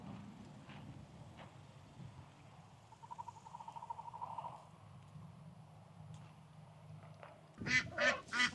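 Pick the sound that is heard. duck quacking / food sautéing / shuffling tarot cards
duck quacking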